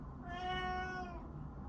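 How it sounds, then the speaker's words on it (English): A pet cat gives a single clear, drawn-out meow indoors, fairly close and quiet against a low background hum, with no speech. "I'm sorry about my kitty cat."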